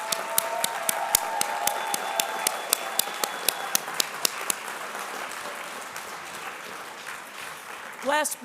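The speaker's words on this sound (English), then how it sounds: "Apd staff, please give them a big round of applause." Scattered, irregular hand claps from an audience at a disability summit in a conference room, loud at first then thinning into sparse claps, with a voice at the very end.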